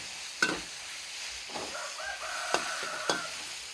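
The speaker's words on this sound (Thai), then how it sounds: "ขั้นตอนแรกเราก็ผัดหมูก่อนนะคะ ผัดหมูก่อน" Pork stir-fries in a pan with a soft sizzle and hiss, broken by a few sharp clanks of a utensil against the pan, close and fairly quiet, with no voices.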